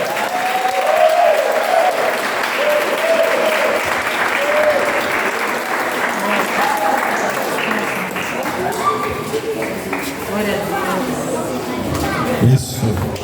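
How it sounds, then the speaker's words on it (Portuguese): A church congregation gathered for an outdoor baptism at a retreat site applauds the candidates in a sustained, full round, with voices and chatter mixed in over the clapping. "Vamos aplaudir esses irmãos?"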